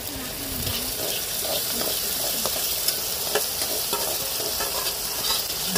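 Fish dropped into a pot of curry sizzle steadily while being stirred, with a continuous hiss and scattered clinks and scrapes up close.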